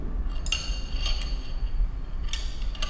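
A metal spoon set down beside a cup of hot salted apricot drink, a few bright clinks of cutlery against ceramic over a steady low background hum.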